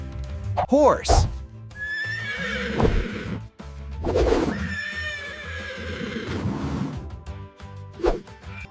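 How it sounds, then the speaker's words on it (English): A horse neighs with a loud, shaky whinny near the start, set against continuous music, with further whooshing swells after it. "Horse."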